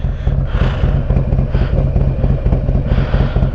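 A Harley-Davidson Road Glide Special motorcycle riding, its engine a loud, steady low rumble with a throbbing pulse and wind noise, heard close up with nobody speaking.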